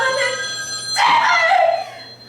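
A telephone rings as a live stage sound effect during a student theatre workshop performance, a bright electronic trill bursting in loudly near the middle, lasting about a second and trailing off into room ambience.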